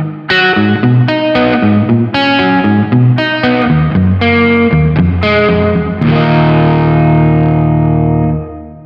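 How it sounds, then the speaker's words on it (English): Electric guitar played through a Sonicake effects pedal with the reverb turned up, a run of picked notes and chords ringing out loud and close, ending on a long sustained chord that washes and fades. "If we turn it up, we're gonna get more reverb blended in"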